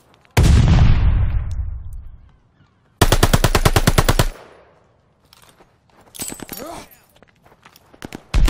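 Video game combat with a stun grenade going off in a loud boom that decays, then a sustained burst of rapid automatic gunfire, followed by scattered shots and clatter, all close and loud with no talk.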